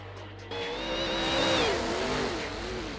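A BMW drift car in a racing video game revs hard and climbs in pitch, its engine note rising and falling with some tire squeal, loud and close throughout, with no talking.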